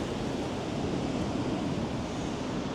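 Big ocean waves on the Madeira coast roar as a dense, constant wash of surf, loud and broad with wind buffeting the microphone.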